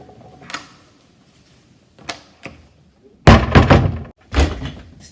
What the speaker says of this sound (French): Cette porte qui est cassée depuis 40 ans.